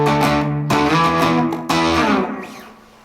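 An electric guitar played through a DIY Klon clone overdrive pedal from Wish rings out in three loud, distorted, sustained chords, each left to decay.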